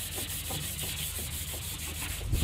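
Steady dry rasping of fine 1000–1200 grit sandpaper worked by hand over the thin gel coat of a Macgregor 26 sailboat hull, with repeated even strokes close up and no talking.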